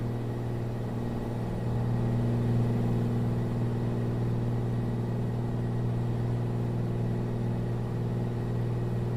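Steady, droning piston engine hum of a Bonanza aircraft throttled back on approach in Microsoft Flight Simulator 2024, with strong low tones, constant and moderately loud, a slight swell early on, no talk.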